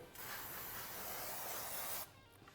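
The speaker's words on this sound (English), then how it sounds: "we're going to clean this backing plate up. We're just using some brake cleaner." An aerosol can of brake cleaner sprayed onto a motorcycle drum brake backing plate: one continuous close hiss lasting about two seconds, then stopping abruptly.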